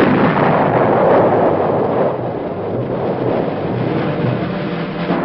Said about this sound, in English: the hilltops overlooking an enemy-held valley are pounded by Army artillery units